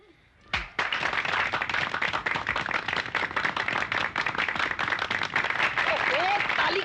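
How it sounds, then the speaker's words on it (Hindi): People clapping in a room at a family comedy gathering, starting abruptly after quiet and continuing as a dense, steady round of applause with faint voices underneath. "ताली क्या बजा रहे हो?"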